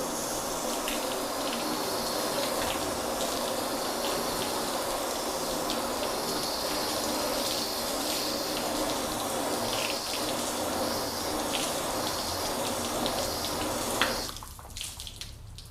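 A garden hose switched to shower mode sprays water over a car under detailing with ceramic quick detailer coatings, a steady continuous hiss of spray that runs close and even before cutting off near the end.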